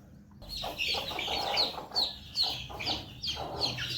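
A hen that has hatched chicks clucks repeatedly at close range, a steady series of short calls over a faint background hum.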